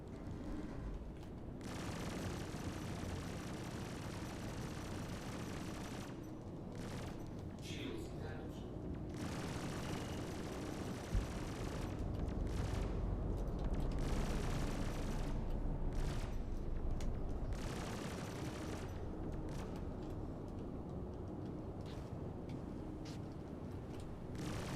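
Spaceship front gun in Star Citizen firing in rapid sustained bursts, a dense rattling roar with short pauses between volleys, under a low engine drone and occasional talk.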